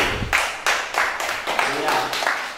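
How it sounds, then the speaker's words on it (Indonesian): An audience claps in a classroom-like room, steady rhythmic claps of moderate loudness for a couple of seconds, with voices talking over them. "Sudah, kita berikan aplaus."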